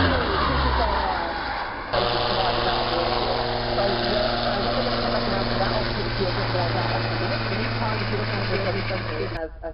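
A Supermarine Spitfire's engine at the Ohakea 75th Anniversary Airshow, a continuous, even drone held at steady loudness throughout, heard beneath a commentator talking.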